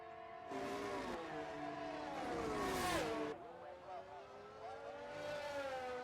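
A race car engine in a sim racing video game roars through the final corner, its pitch sweeping up and down with gear changes and a sharp drop near the middle, continuous and loud under excited race commentary.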